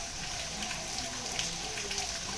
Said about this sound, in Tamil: ஐயோ மழை பெய்யுது